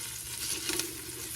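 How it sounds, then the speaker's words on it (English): Lamb shanks sizzle steadily as they brown in a Dutch oven, a loud, close, continuous fizzing hiss with no voices. "They're sizzling nicely in that Dutch oven."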